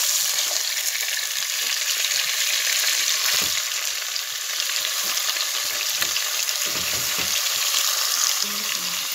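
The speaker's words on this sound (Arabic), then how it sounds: "انا مش هحمرها، انا هشوحها بالملح والفلفل الاسمر كده" Meat sears in a pan with salt and black pepper, a loud continuous hiss and crackle of hot fat that holds evenly from start to finish, close by and with no voices over it.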